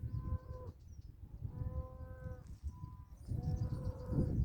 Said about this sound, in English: You hear the cows crying?